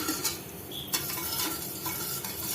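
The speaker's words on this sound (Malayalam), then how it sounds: "ഇതൊന്ന് നന്നായിട്ട് ഒന്ന് മിക്സ് ചെയ്ത് തിളച്ച് നല്ല പാണി നല്ല ഒട്ടുന്ന പരുവത്തിൽ ആക്കണം" Sugar syrup being stirred in a pan as it boils, a steady close scraping and bubbling texture with a few louder clinks of the spoon against the pan, no voices.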